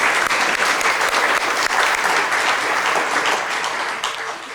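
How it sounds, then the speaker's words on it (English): Audience at a board of directors candidates' forum applauding, a steady, dense wash of clapping that holds loud throughout and tapers slightly at the end. "So let's give them a round of applause."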